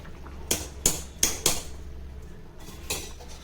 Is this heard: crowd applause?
no